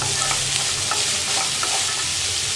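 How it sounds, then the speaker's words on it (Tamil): Carrots and other vegetables sauté in hot oil for semiya kichadi, giving a dense, continuous sizzle with faint stirring scrapes, close by and steady throughout. "கேரட்டு, காயெல்லாம் போட்டதுக்கப்புறம் ஒரு 2 நிமிஷம் நல்லா வதக்கலாம்"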